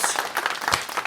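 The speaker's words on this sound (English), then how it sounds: "Our live audience is not done. Clearly, let them clap." Live studio audience clapping in a short burst of quick, overlapping hand claps, moderately loud and without talk.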